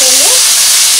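Masoor lentils stirred in a hot pan with ginger and garlic, giving a loud continuous sizzle with a brief tonal scrape near the start, close and uninterrupted.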